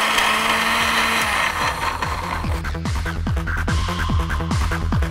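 A mixer grinder whirs continuously through grinding spices for a chicken biriyani, a loud steady motor drone with a rhythmic chopping pulse from the blades working the ingredients.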